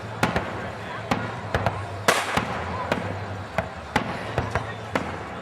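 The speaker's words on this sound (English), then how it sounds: "There's a lot of fireworks actually happening in the suburbs" Repeated sharp bangs of fireworks bursting over the Darwin suburbs at irregular intervals, some near and some more distant, over a low background rumble.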